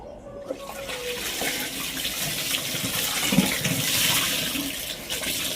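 Very cold water left standing since the day before is emptied out in a steady rushing pour, fairly loud and near, with some splashing that rises and falls.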